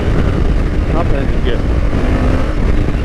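A Honda Africa Twin motorcycle accelerates hard enough to lift its front wheel, its engine a steady loud roar mixed with heavy wind rush, with a brief rising note in the middle.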